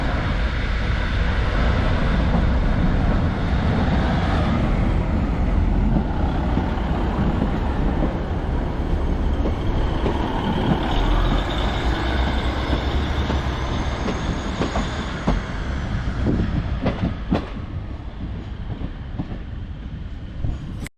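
An Avanti passenger train rushes through a station in a loud, continuous roar of wheels and rail noise that fades slightly near the end, with faint squeals and clanks.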